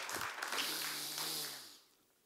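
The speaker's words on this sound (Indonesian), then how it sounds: "Kita berikan tepuk tangan yang meriah" A church congregation claps in a brief round of applause that is loud at first and fades away within two seconds, with a low voice briefly underneath.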